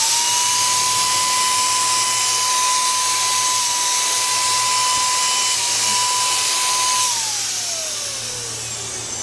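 A Batavia electric HVLP spray gun sprays finish with a loud, steady high whine and airy hiss. The whine winds down near the end.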